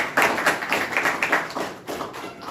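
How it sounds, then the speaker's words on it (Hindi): A group of people claps in a quick, uneven run of taps during an interview session, the bursts moderately loud and close, with no talking over them. "एक बार फिर से ताली बजा लो"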